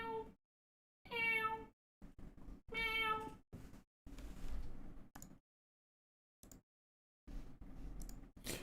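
A cat meows repeatedly in loud, harmonic cries separated by short pauses, with scattered clicks and bumps between calls and no talking.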